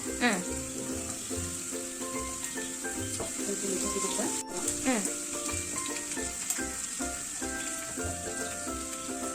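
Ginger and garlic fry in a pan with a steady crackling sizzle, while spoon scrapes and clinks repeat throughout and faint background sounds sit underneath.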